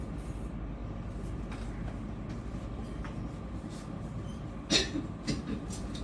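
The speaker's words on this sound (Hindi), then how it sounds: "आपको खांसी बहुत है" A few short coughs in a doctor's-visit scene of a stage skit, brief bursts heard near the end over a steady low rumble of background noise.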